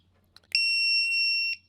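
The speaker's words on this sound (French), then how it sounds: "c'est le petit buzzer qui va m'indiquer lorsque la batterie sera à plat" A shrill electronic low-battery warning buzzer on an airsoft or blaster gun sounds one steady tone for about a second after a couple of faint clicks, close and loud.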